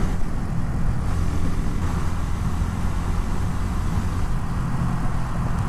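A Suzuki TU250X motorcycle engine drones on while riding, a dense, steady roar blended with heavy wind rush, loud and continuous throughout.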